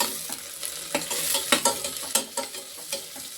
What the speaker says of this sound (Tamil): வெங்காயம் வந்து ஓரளவு கண்ணாடி பதத்துக்கு வேகட்டும்